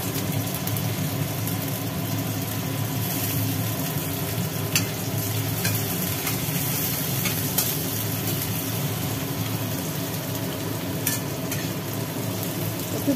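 Garlic and green chillies frying in oil in a pan, a steady dense sizzle filling the kitchen with a low background hum and a few faint clicks, no voices.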